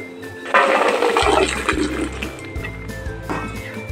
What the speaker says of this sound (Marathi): आता मी हे चाळणीमध्ये सगळं पाणी नितळायला ठेवलेले